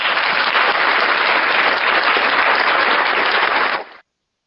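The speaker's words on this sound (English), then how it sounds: "Let's give a round of applause for coming on here tonight." A room full of people gives a round of applause after an interview with a high school quarterback; loud, dense clapping holds steady for about four seconds, then cuts off abruptly into silence.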